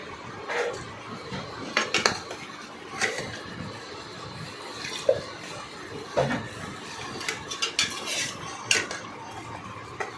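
Dried chilli powder being stirred into a pan while cooking Doi-Pabda fish, with a utensil clinking and scraping against the metal in irregular, fairly close taps.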